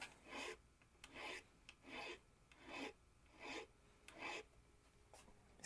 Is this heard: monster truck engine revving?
no